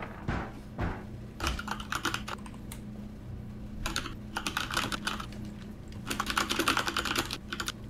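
Rapid computer keyboard typing in irregular bursts during a Rainbow Six Siege ranked match session, close and fairly clear, with short pauses between flurries of clicking keys and no talk.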